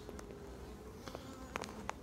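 Bees in a hive during an inspection, with young bees present, produce a faint, steady buzzing hum with a few brief louder buzzes as individual bees pass close.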